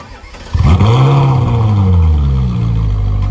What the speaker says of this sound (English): Okay, so we'll start the car.